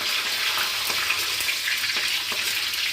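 Bay leaves, cloves, cinnamon and cardamom frying in oil for vegetable fried rice, a dense, continuous loud sizzle with faint scraping stirs, close and steady throughout.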